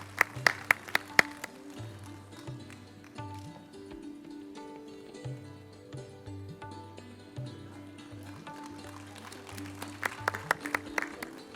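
At a valedictory prize ceremony, scattered audience claps for the winners crackle in sharp bursts at the start and again near the end, with a quiet, steady tonal background droning between them and no voices.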